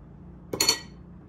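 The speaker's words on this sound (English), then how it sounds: "Use the spatula." A spatula scrapes and knocks in a mixing bowl of healthy cheesecake batter, a single brief clinking clatter of two or three quick metallic taps in a quiet room.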